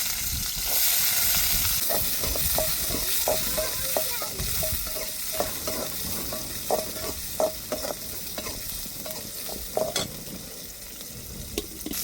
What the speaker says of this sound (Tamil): இப்போ பட்டை வகையை சேர்த்துக்கிடுவோம். பொரியட்டும் நல்லா.